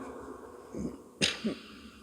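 A person coughs a few times, short, faint bursts, one soft cough followed by a sharper one and a quick smaller one, against a quiet room.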